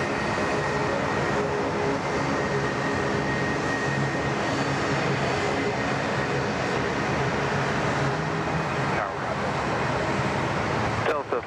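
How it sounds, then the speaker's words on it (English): A jet rumbles through a long takeoff roll at Sydney Airport, a steady broad roar heard from a distance that holds throughout, with a voice speaking over it. "nice long takeoff roll here, folks"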